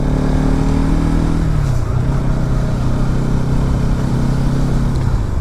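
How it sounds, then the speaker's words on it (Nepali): A motorcycle rides a long road trip from Simara toward Kathmandu through Hetauda, its engine droning steadily and loudly close by, with a slight drop in pitch midway as it changes speed, and no talking. "झन् आफ्नै बाइकले जाँदैछु हेटौडा सरी काठमाडौँ।"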